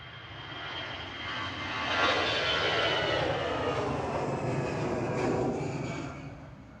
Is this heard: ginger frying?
no